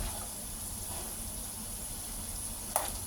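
Peanuts cook in a pan with a steady, close sizzle and frying crackle throughout, plus a single brief sharp clink near the end; no one talks.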